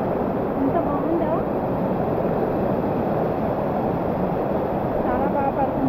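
A waterfall in the Araku tribal area during rain, its close, steady rushing roar filling the whole stretch without a break.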